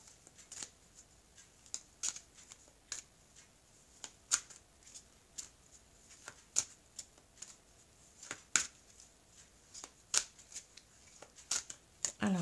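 Oracle cards from the Oracle des miroirs deck being shuffled by hand, a run of crisp riffling snaps and flicks repeating at an uneven rhythm, close and moderately quiet, with no talk over them.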